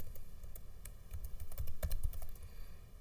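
Close, quiet typing on a computer keyboard while entering SystemVerilog testbench code, with rapid, irregular clicks of keys in a short burst.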